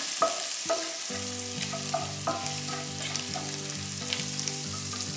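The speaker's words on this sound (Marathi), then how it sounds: "आता हे आता छान परतून झालं जिरे आणि शहा जिरेचं" Cumin and shahi jeera sizzle steadily as they are sautéed in a pan for hotel-style jeera rice, a continuous close frying crackle with a few light stirring clinks and no talking.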